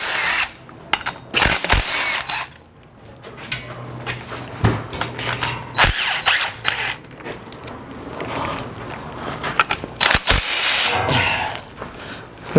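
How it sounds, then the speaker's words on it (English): A pneumatic impact gun drives 12 mm bracket bolts on a 2015 Subaru Forester transmission mount, with repeated loud, close rattling bursts and short pauses between them in a garage setting. "Make sure you tighten it with the gun."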